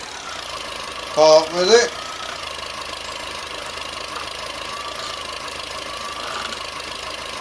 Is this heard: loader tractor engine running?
yes